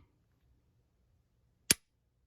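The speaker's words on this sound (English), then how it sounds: "Load up the snap caps, cock it back, and I'll dry fire the snap cap." A Glock 23 pistol dry-fired on a snap cap gives a single sharp metallic click, close and isolated against near silence.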